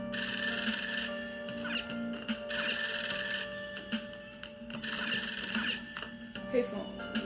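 Payphone ringing in the video game Persona 5: a repeating electronic ring in bursts about a second apart, moderately loud over game music, with voices talking.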